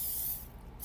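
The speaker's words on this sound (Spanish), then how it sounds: "este aceite en aerosol." Cooking oil from an aerosol can sprays into a donut baking pan in a steady close hiss that eases slightly partway through, with no talking.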